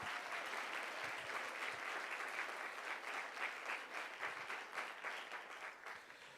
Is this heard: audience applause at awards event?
yes